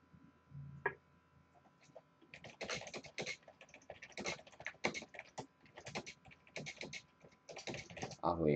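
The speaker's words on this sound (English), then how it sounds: "It's tough because I'm typing, and it's very hard to type and move at the same time." Typing on a computer keyboard during a live online slow chess game, a steady run of quick clicking keystrokes with faint talk in the background.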